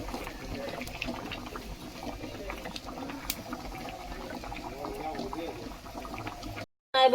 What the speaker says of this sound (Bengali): ডিম সিদ্ধ প্রায় হয়ে গেছে